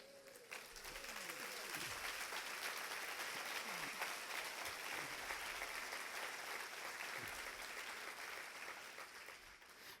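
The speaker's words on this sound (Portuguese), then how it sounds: "Vocês aplaudiram a minha declaração" A church congregation claps for a preacher in a sustained round of applause that swells quickly and holds steady, with faint voices mixed in underneath.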